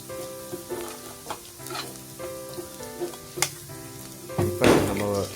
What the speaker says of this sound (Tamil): இப்போ க்ரீன் சில்லி ஆட் பண்ணிட்டு கறி லீவ் ஆட் பண்ணிக்கோங்க. நல்லா வதக்குவோம்.